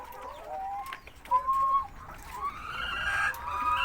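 Laying hens clucking on a poultry farm, a run of mid-pitched calls and drawn-out tonal cackles rising over a steady background hum, fairly close and continuous.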